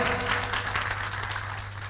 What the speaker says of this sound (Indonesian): sekali lagi tepuk tangan buat Dr. Andika